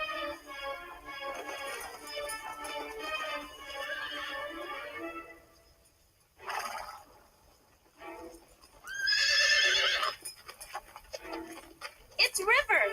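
Horses neigh and whinny outdoors, with hoof clip-clops and people talking throughout; a loud, shrill whinny rises near the middle, followed by shorter calls and clatter.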